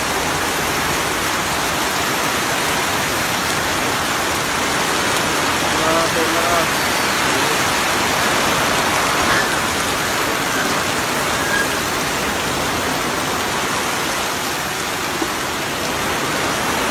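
Heavy rain from Typhoon Ambo in Albay and Sorsogon pours down as a dense, loud, unbroken roar of water pounding surfaces, steady throughout with no letup.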